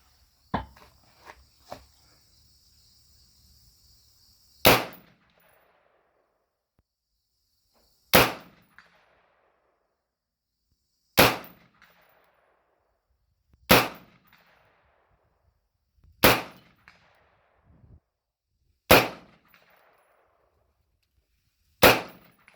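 Eight sharp gunshots from a Keltec RDB rifle ring out one at a time, several seconds apart, loud and close, with a few faint clicks and handling noises between them and no talk.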